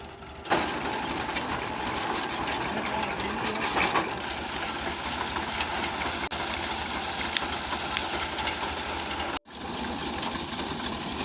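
A tractor runs in low gear during a wheat harvest, giving a steady, loud engine drone with broadband mechanical clatter that continues almost unbroken for the whole stretch, dropping out briefly near the end.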